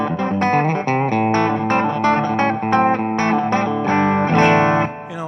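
Clean electric guitar played through an amp plugin, a bright, sustained run of picked notes and chords with light effects shimmer, loud and up close with no talking over it.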